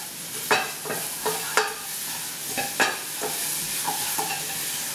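A spoon stirs onions coated in brown sugar in a sizzling pan, with several distinct scraping strokes over a continuous frying hiss.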